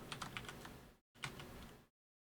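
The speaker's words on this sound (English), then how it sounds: "This is just for keys." Keys clatter on a computer keyboard in two quick bursts of typing, close and fairly quiet, split by a brief pause and then cut off into silence.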